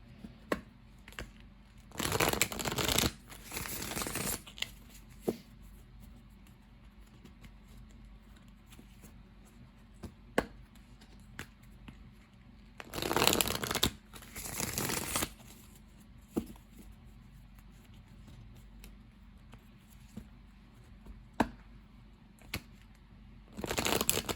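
Tarot cards from the True Heart Intuitive deck are shuffled in soft, close riffling bursts with scattered taps and pauses between them, with no talking.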